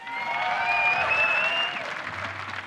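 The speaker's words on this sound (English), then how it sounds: "Can we have one more round of applause" Audience applause at an esports semi-final between NiP and Fnatic, a steady crowd clapping that swells and then eases off, with cheering voices rising above it.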